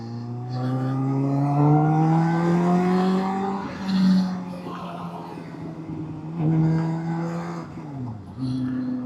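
Suzuki Bandit 600 GSF motorcycle engine revving up hard in first gear, pitch climbing steadily for several seconds, then dropping and rising again with brief gear changes, loud and close with no talk.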